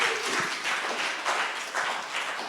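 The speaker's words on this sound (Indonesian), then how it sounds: "Berikan tepuk tangan untuk Caleb ya." Applause from an audience at an Indonesian talk or seminar, a steady wash of many hands clapping that swells and eases in waves over a couple of seconds, fairly loud and with no talking.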